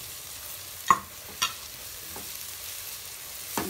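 Peppers frying in a pan for spicy pasta are stirred with a utensil, giving a few sharp scraping clicks spaced over a low, steady sizzle, close and fairly quiet.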